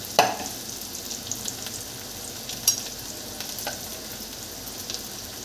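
Chopped onion frying in a pan with a steady, close sizzle and a few light stirring clicks throughout, no voices.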